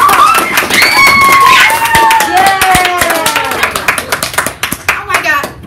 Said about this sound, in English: We want to start this episode with a big round of applause for our drama students